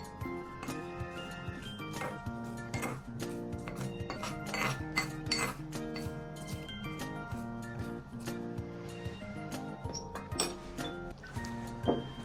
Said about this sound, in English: And then we mix well.